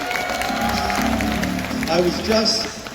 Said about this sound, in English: Give AJ a big round of applause